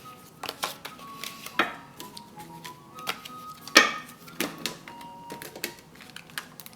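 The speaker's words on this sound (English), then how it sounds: "Or you attempt to shuffle your cards," Close, irregular taps and flicks of tarot cards being shuffled, scattered over several seconds with one sharper knock midway, no voices.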